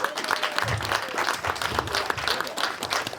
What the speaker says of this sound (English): Can you give him a hand clap?